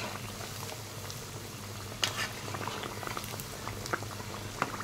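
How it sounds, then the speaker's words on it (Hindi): Potato and sabudana tikki fry in hot oil, a continuous soft bubbling and crackling patter with scattered faint pops and one sharper crackle midway, no voices. "देखिए गोल्डन होने तक इनको फ्राई करेंगे"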